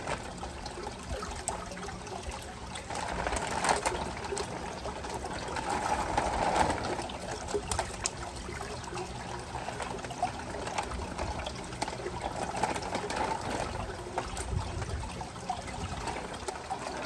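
Water trickles and splashes softly as new koi are scooped out of a transport bag with a fine net, a steady gentle dribble with slight swells, no talking.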